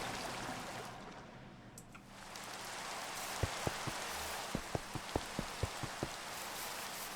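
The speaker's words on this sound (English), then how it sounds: "And it's raining." Steady rain falling in the Minecraft game, a constant soft hiss with a short run of light ticking drops near the end, with no talking.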